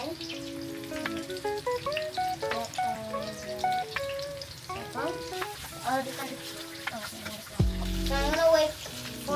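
Cumin seeds frying in a pan give a soft, steady sizzle with irregular crackles and pops, fairly quiet and close, with a stirring scrape near the end.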